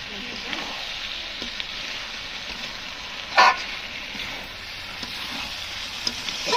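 Chicken and fried potatoes sauté in a pan with a steady, moderate sizzle, broken by one sharp scrape or clatter midway and a few soft stirring knocks, without any speech.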